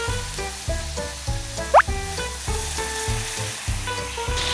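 Salted peda fish sizzles in hot cooking oil, a constant crackling fry under louder rhythmic music with a thumping beat.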